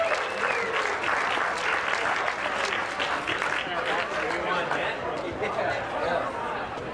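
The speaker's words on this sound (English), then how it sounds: "Second place net, give them a round of applause." Sustained applause from a crowd at a charity golf event, steady clapping with scattered cheers and chatter mixed in, filling the whole stretch at close range.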